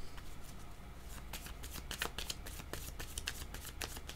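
Tarot cards being shuffled by hand at close range: a soft, quiet run of riffling, flicking card sounds with irregular sharp snaps, no talking.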